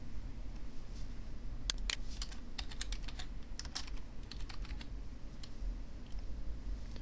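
Typing on a computer keyboard during a Genesis Omnivue imaging exam setup: a run of sharp, irregular key clicks, close and fairly quiet, over a steady low hum.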